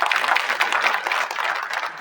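A political rally crowd applauds, a dense and steady burst of clapping that holds for a couple of seconds without talk.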